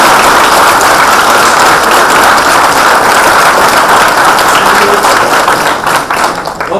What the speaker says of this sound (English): And a very big round of applause to management,